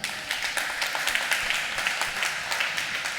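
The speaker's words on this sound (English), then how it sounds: "Clap if you would buy Uber." A conference audience applauds as a vote for Uber, a fairly dense round of clapping with distinct individual claps standing out in a loose rhythm, steady throughout.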